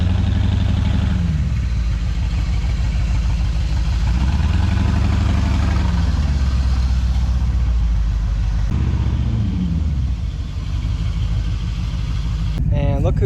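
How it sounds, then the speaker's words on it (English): Truck engine idling steadily after sitting a while, a continuous low rumble with a slowly wavering pitch through most of the clip, close and fairly loud; a brief higher mechanical whine enters near the end. "I'm gonna let it idle down some, though. She's been sitting for a while or so."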